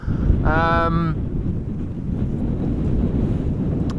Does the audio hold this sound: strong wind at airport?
yes